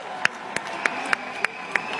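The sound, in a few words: crowd applauding at a protest square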